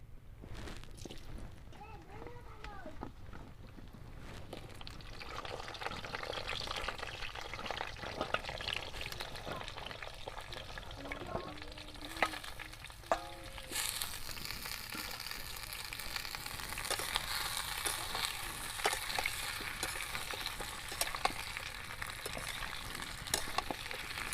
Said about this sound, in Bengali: তেল গরম হয়ে গেছে, এরপরে দিয়ে দিচ্ছি গোটা জিরে, এরপরে দিয়ে দিচ্ছি আলু